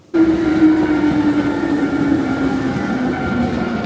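Steady rumble of a moving train carriage in Osaka, Japan, with a constant hum and rolling wheel noise, heard from inside, continuous and fairly loud.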